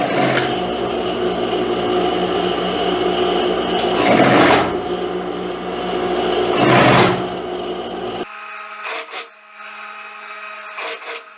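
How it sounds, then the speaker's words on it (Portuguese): An overlock machine sews a seam on a long wrap dress in close, loud bursts of rapid whirring, with two brief surges and a sharp cutoff into quieter handling noises and short clicks. "rente com o overlock e vou passando a costura aqui dentro"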